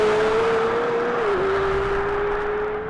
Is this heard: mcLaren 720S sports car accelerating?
yes